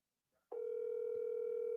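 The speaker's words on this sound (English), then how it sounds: "Phone ringing, but no one is picking up." A telephone line tone during a hurricane in Jamaica starts abruptly after near silence and holds as a steady, unbroken electronic tone, loud and alone, with no answer.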